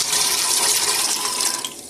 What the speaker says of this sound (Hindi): इस बर्तन में हम 2 लीटर पानी जो है वो डालेंगे